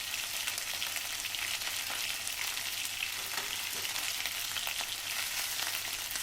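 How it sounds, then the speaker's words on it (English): Red dry chilies and cumin seeds sauté in a pan with a constant, soft, hissy sizzle and light crackle throughout, without any talking. "saute for 1 minute"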